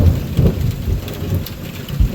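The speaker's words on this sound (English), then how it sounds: "our September started with a thunderstorm" A thunderstorm in September brings steady heavy rain with low rumbling thunder rolling underneath. The sound is loud and continuous, with no voices.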